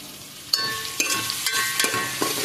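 Chicken sukka fries in a pan with a continuous bright sizzle, broken by a few sharp spatula scrapes and clacks as the pieces are stirred, close and loud with no talk.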